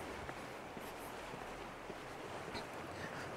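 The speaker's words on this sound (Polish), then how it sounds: "teraz dojdzie nam jeszcze dodatkowo szum wody" Steady rushing water in a forest fills the background, a broad soft roar without pauses, heard from a short distance with no talking.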